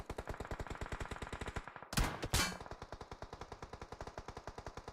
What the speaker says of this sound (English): Amanda with some shots on Rage.